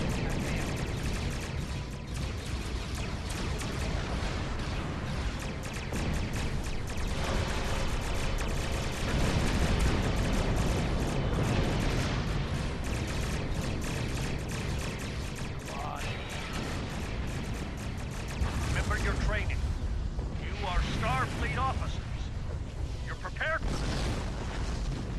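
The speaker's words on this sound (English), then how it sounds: "was a big explosion." Explosions and weapon fire from Klingon ship combat in the Star Trek Online video game, dense and continuous booms and bursts throughout, with a player talking over the action.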